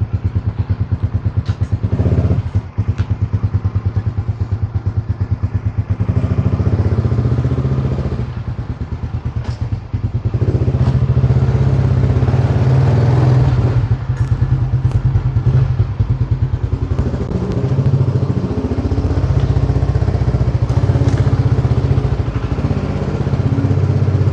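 A Raider 150 motorcycle engine cranks with clattering thumps, then settles into a loud, steady mid-pitched running rumble throughout, close and without talk.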